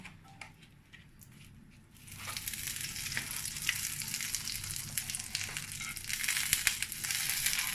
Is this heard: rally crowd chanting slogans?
no